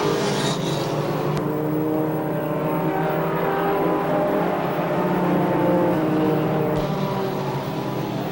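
Race cars run laps at Star Speedway, producing a steady, continuous engine roar that holds at an even loudness throughout, with no voices over it.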